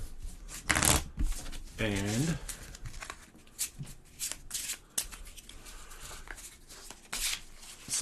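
A deck of Orchard game cards is shuffled by hand in quick riffling bursts, close and crisp, while a person talks.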